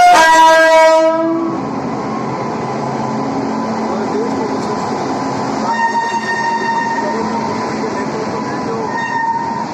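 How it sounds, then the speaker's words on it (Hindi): Train horn blasts loudly at the start as the new Rewa to Itwari passenger service gets under way, followed by a steady rumble of rolling wagons and wheel clatter, with crowd voices faintly mixed in. "आज ये रीवा से इतवारी जो ट्रेन प्रारंभ हुई है"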